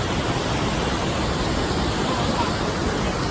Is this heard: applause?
no